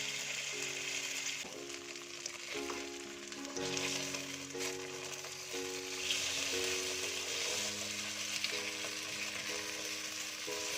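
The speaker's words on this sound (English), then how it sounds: "Now we fry 2 until 3 minutes" Tofu frying in oil for vegetarian salt and pepper tofu, a steady hiss and crackle under a repeating mechanical whirring pattern, moderately loud and continuous with no talking.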